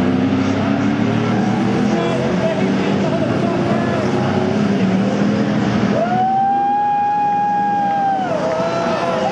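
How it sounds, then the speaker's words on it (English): NASCAR Camping World West stock cars on the final lap of a 125 race at PIR, a loud continuous engine roar with one car's rising and falling whine sweeping past, under a race commentator's voice. "here it comes, the final lap of the race, with Greg Pearsley in the lead"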